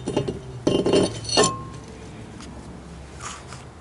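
Metal brake rotor sliding onto the front hub of a Chevy Impala, giving a few sharp metallic clinks and scrapes early on before settling into quiet, close up.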